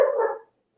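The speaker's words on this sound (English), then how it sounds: "Oh, my dogs are coming alive as I'm saying that." A single short dog bark or yelp, close and moderately loud, cutting off quickly into silence.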